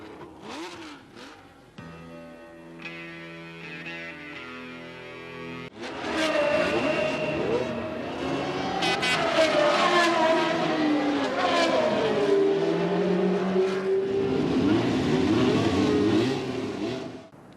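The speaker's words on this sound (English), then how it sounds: "They go on practicing until time runs out and the scream of engines ceases to echo in the hills." Race car engines scream on practice laps for the 1981 Las Vegas race, sharp high revving passes and gear changes echoing at varying distances, rising into a sustained roar of several cars together after a quieter start.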